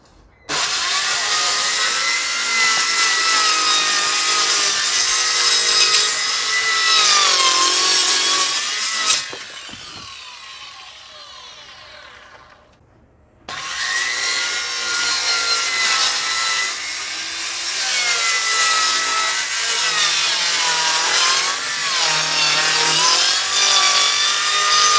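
A rotating power saw cuts through plywood for a water tank cover on a backyard hydroponic build, a loud steady whine that drops away partway through, goes quiet for a few seconds, then returns for a second long cut.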